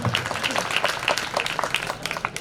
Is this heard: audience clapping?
yes